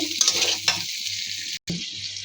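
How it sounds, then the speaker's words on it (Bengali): Close, steady sizzling of shrimp frying in hot oil in a pan, with a brief stir and a momentary cut near the end. "চিংড়ি মাছটা ভেজে নেব"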